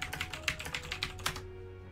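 Rapid keystrokes on a computer keyboard, a steady run of close, crisp clicks for over a second, then stopping abruptly.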